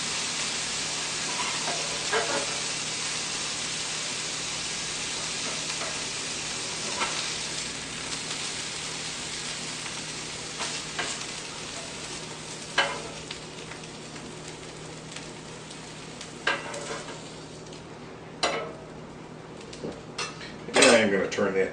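Steak sizzling on a hot griddle during a final flip, a constant crackling fry with sharp spatula scrapes and clanks against the metal, and a voice talking over it.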